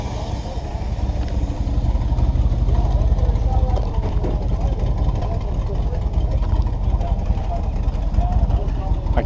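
A car engine idles with exhaust leaking from the muffler, giving a loud, steady, close low rumble with a rough, puffing texture that holds evenly throughout.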